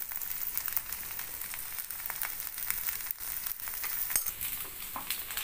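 Tomato dosa cooking on a hot pan with oil drizzled over it, a steady close sizzle and fine crackle running throughout with brief scraping touches, no voices.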